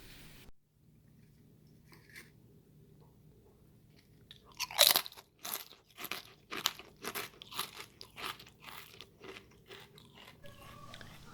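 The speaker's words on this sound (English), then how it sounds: "That crunch was absolutely fabulous." Homemade microwave potato chips, golden brown on each side, crunched up close: a sharp first bite followed by a rapid run of crisp chewing crunches, loud against a quiet room.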